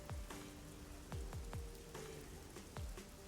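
Rain falls in the game Rain Code, heard as a soft wash of rain with scattered heavier drops landing close by in a loose, irregular rhythm.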